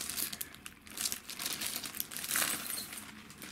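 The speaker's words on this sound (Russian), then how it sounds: "Находится в антистатическом пакетике." An antistatic plastic bag holding a laser disc crinkles and rustles in irregular bursts, close up and fairly quiet, with no talking.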